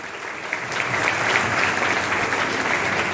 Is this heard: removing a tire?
no